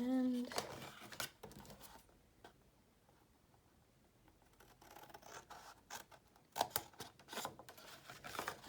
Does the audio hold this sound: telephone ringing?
no